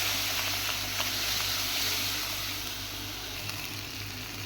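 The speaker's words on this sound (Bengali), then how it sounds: "এবার আমি মশলাটা ভালো করে কষিয়ে নেবো" Turmeric and chili powder frying in mustard oil in a pan for a prawn curry, a steady close sizzle with faint stirring scrapes and no voices.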